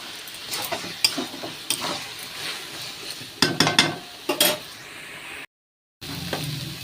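Kochu shak (taro leaf greens) with sugar are stirred in a pan: a spatula scrapes and clacks in scattered strokes over a faint sizzle, close and fairly quiet, with a brief dropout near the end.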